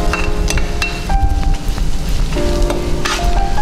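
Small onions and garlic sizzle in hot oil while sautéing for a Kongu-style chicken gravy, a steady close crackle with brief stirring scrapes throughout.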